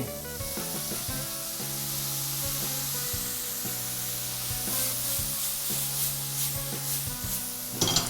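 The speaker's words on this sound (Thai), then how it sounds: "ผัดจนเหล้างวดฮะ" Hong Kong noodles stir-fried in a pan with Chinese wine and soy sauce, a continuous sizzle with scraping, rubbing stirs and a low hum underneath, ending in a brief louder rattle.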